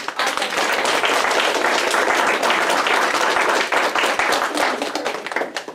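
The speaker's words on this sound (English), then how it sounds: "a big round of applause for all of our" At an English learner reclassification ceremony, a crowd breaks into a big round of applause, dense and sustained clapping from many hands at full volume throughout.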